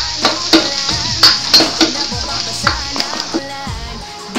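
Garlic crackles and sizzles in a hot pan while a utensil stirs and clinks against the metal in repeated sharp knocks, close and loud.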